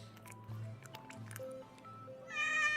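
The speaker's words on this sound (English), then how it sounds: "Aww, cute cat." Cat in an RPG Maker video game, with soft squishy, drippy game sound effects and a short synthetic meow-like tone near the end, quiet and isolated.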